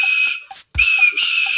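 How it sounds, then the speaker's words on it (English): A cartoon tank engine's steam whistle sounds in two long, bright, loud blasts broken by a short gap, with a brief low thump in the middle. "And he blew his whistle."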